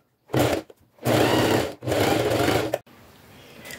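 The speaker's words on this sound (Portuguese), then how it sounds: "Agora eu vou passar uma costura aqui, pezinho de máquina, dos dois lados." A sewing machine stitches a presser-foot-width seam along tricoline cotton fabric in three close, loud bursts of motor whir separated by brief pauses, then falls quiet.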